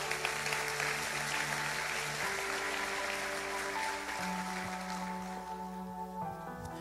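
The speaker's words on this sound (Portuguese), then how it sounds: "Dê o melhor aplauso que você pode dar ao Senhor" A church congregation applauds during a morning service, a steady wash of clapping over sustained keyboard or organ chords that gradually thins toward the end.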